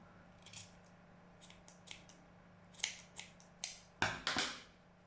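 Scissors trim the loose threads of a crochet tassel, giving a quiet series of about nine crisp snips in irregular bursts with no talking.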